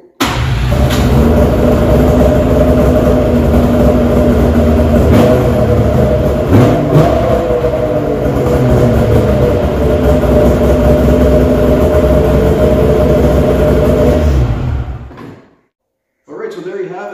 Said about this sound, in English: we'll fire it up for a little bit. Just because it sounds so cool. I love these triples.